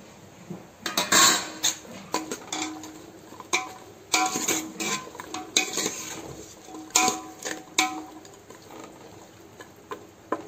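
A utensil stirs boiled chickpeas and chopped taro in a pan for a Goan-style taro leaf dish, with repeated scraping clinks and taps of metal on metal in irregular bursts, close up and with no talking.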